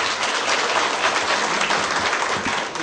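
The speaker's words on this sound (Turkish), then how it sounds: "Latif Bey'i bir alkışlayın hele şöyle." A crowd at a political gathering in Nizip, Turkey, claps for acting mayor Latif Karadağ: loud, continuous, dense applause that holds steady and tapers slightly at the end.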